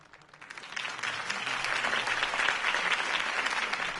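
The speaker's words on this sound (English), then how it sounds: "could have heard that applause" In the video game Batman: The Telltale Series, a crowd breaks into applause after a campaign speech; the applause swells quickly and holds as a dense, sustained wash of clapping.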